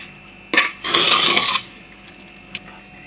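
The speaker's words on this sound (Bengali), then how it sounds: "আর ভালো করে সব কিছু রাইসের সাথে মিশিয়ে নিতে হবে" A spoon mixes fried rice in a metal pot, making a short scrape, then a longer scraping stir and a single light clink, all close by.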